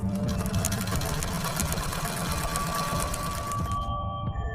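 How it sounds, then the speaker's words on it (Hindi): A sewing machine stitches in a fast, steady mechanical whir with dense rapid clatter, close and continuous, then stops abruptly at the end. "दोपहर तक चीज़ें सेटल करके टीवी देखते हुए सिलाई मशीन पर सिलाई का काम करने"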